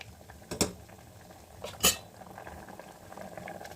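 Chicken kurma bubbling in a kitchen pot, a faint simmer punctuated by a couple of sharp metallic clinks of utensils against the pot.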